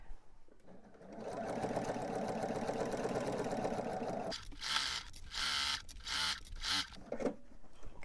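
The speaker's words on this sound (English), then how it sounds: "I'm basically going to sew this in 2 to 3 inch sections, nice and slow, all the way around the quilt" Domestic sewing machine stitching quilt binding in slow, short sections, a steady close mechanical whir running several seconds, then a stretch of rhythmic bursts and brief pauses.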